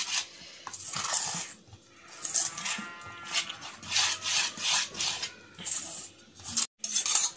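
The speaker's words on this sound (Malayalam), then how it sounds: "ഇതൊന്ന് നന്നായി മിക്സ് ചെയ്ത് കൊടുക്കാം." Plum cake batter being mixed in a bowl with baking powder sifted in, a steady rhythmic scraping and rubbing of a spoon against the bowl, close and fairly loud, with brief pauses and no talking.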